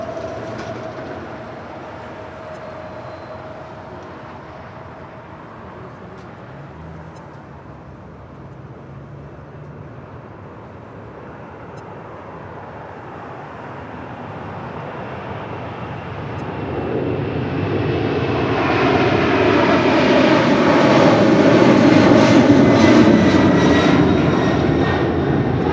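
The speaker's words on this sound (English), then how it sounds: "We got another Queen now rolling down 25 left. A Korean Air Cargo 747-400" A Korean Air Cargo Boeing 747-400 takes off down runway 25 left at LAX, its engine roar rising from a distant rumble to a loud, close, sustained thunder that peaks near the end.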